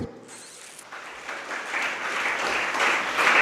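An audience at a Jain monk's sermon in Itarsi breaks into applause, the clapping starting light and swelling to a steady, dense patter of many hands in a hall.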